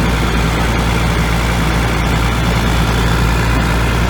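A rebuilt John Deere 6068 diesel engine idles steadily on its first start after a complete rebuild, a loud, continuous low rumble with even firing and no variation.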